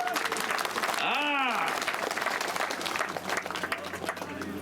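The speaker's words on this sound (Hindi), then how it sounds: "अरे ताली तो बजाओ अच्छे से, बोले सोनिया, बजाओ ताली बजाओ।" A large crowd at an election rally in Shivpuri claps in a dense, sustained wash of applause, with an amplified voice rising briefly over it before the clapping continues, busy and fairly loud.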